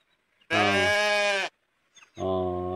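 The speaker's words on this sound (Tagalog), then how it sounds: "Yun yung kambing sa baba." Two loud bleats close by, the first long and wavering, the second shorter after a brief pause, with a faint voice murmuring between them.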